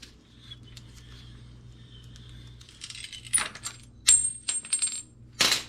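A pipe cutter bites into the steerer tube of a RockShox Domain bicycle fork, giving sharp metallic clicks and brief squeals that come in irregular bursts over a quiet background.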